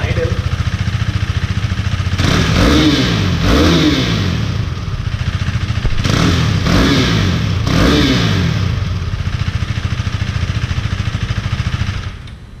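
A 2017 KTM RC 390 motorcycle with a new exhaust idles with a loud, steady pulse and is blipped in a few sharp rev bursts, close and continuous.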